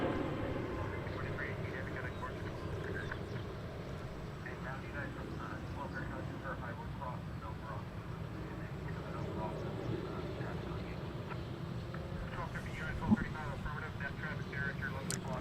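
A LAX-bound airplane at DFW airport, a broad, steady jet roar at middle distance that holds level throughout, with people talking over it.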